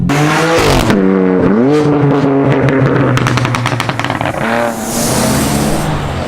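A BMW M3 exhaust revs loud and close, its throaty drone dropping into a rapid run of popping, crackling burbles before climbing again.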